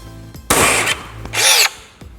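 A Hilti BX3 cordless nailer fires two sharp, loud cracks into wood, a short pause between them, with faint clicks around the shots.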